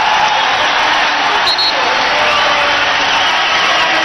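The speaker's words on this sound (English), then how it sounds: "And listen to this crowd." A dense NBA arena crowd at a Houston Rockets versus Boston Celtics game in Boston roars continuously as a loud, even wash of cheering, with a brief whistle-like tone rising above it.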